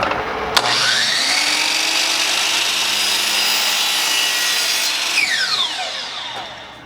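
A power saw cuts through wood pieces for a shadow box frame, a loud steady whining cut that spins up sharply, holds for several seconds, then winds down at the end, with no talking.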